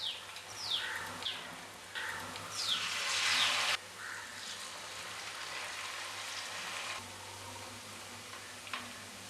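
Pappada vada, folded pappadam dipped in batter, sizzles in hot oil, a steady crackling fry with sharp bubbling spits that grow louder for a few seconds, then settle to a quieter, even sizzle.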